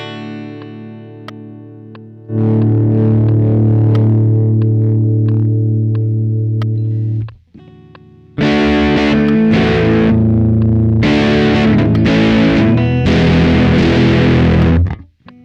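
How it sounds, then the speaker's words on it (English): Electric guitar played through a Fiio G01 headphone amp with the drive turned up, giving a heavy metal-style distorted tone: a sustained chord, a short break, then several loud, crunchy strummed bursts. "if I turn the drive up, you'll hear that metal sound right there."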